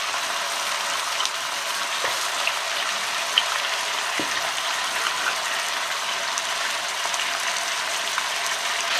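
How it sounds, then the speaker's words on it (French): Beef and onions sizzle in a pan over fairly high heat for a beer-braised beef stew, a steady close hiss of frying with a few faint clicks and no talking. "Mes oignons commencent à dorer, j'ajoute ma viande. Allez, à feu assez vif."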